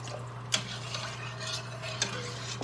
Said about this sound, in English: We're gonna add all that broth right there.